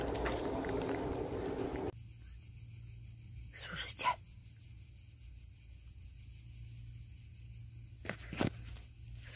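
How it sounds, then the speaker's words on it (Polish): Cicadas shrill in a continuous high-pitched drone outdoors, steady and fairly loud throughout. Some rustling and footstep noises come early on, and a couple of brief sharp knocks occur later. "Słyszycie te cykady?"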